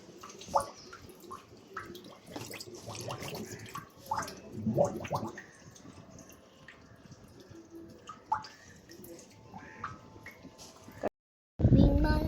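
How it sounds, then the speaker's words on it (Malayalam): Water scooped with a cup from an Oscar fish tank and poured into its filter, irregular splashes, drips and gurgles near by, with louder pours around the middle, then a short silence. "ഒരു കപ്പ് വെള്ളം കോരിയിട്ട് നമുക്കിതൊന്ന് ഫില്ല് ചെയ്ത് കൊടുക്കാം"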